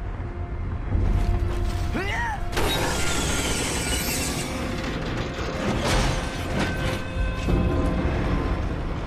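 Heavy mechanical creaking and grinding as a counterweight car moves a lift in the video game Gears of War 3, set in a refinery, with a sharp crash partway through and dense game noise continuing throughout.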